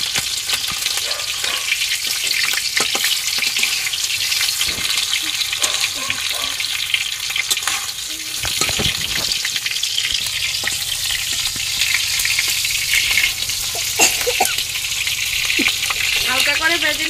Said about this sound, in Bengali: এখন মাছগুলো একটু ভেজে নিই